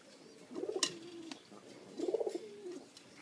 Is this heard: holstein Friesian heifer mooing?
no